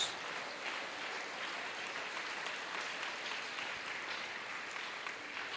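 A church congregation applauds at a sermon, giving steady, even clapping that sounds fairly soft and distant and keeps going throughout.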